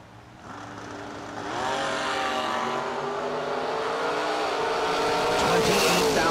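A Mosher Engineering Corvette drag races down the strip, its engine roaring loud and continuous with rising revs and tire squeal as it pulls away, building steadily in level to the end.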